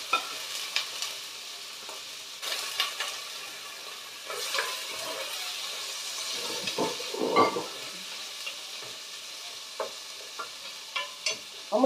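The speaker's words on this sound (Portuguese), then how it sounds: "Vamos deixar fritar bem fritinho esse bacon" Bacon sizzles in a pan, a soft steady hiss with scattered pops and occasional louder stirring clatters, fairly quiet with no voices.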